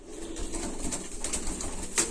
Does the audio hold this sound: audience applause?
no